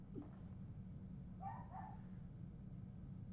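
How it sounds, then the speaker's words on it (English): Dogs barking somewhere indoors, a brief pair of faint yips or barks in the middle of a low steady background hum, fairly distant and short. "sorry, the dogs are barking."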